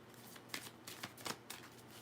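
Tarot cards shuffled by hand in soft, repeated riffling bursts, several quick flurries close by and fairly quiet, with no talking.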